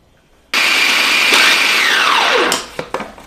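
Kitchen food processor grinding shrimp for shrimp patties starts abruptly and runs at a loud, steady whine for about two seconds, then winds down as the motor slows, followed by a few clunks.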